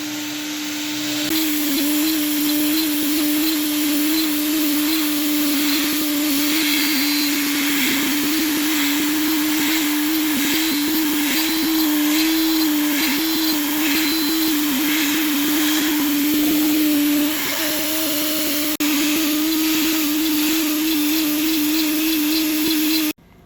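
A CNC router machines a fuel rail out of aluminium extrusion, giving a loud, steady whine with a strong sustained tone that runs unbroken for the whole stretch, close and continuous with no talking.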